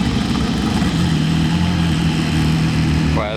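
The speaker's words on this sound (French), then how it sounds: "ça fait vraiment voiture de course." A sports car engine runs loud and steady with a rough mid-range drone, then briefly rises as it revs, heard near on a Monaco street with background voices.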